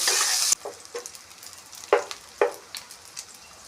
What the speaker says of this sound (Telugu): రొయ్యలు లైట్గా గోల్డెన్ కలర్లోకి వచ్చే ఫ్రై చేసుకోవాలి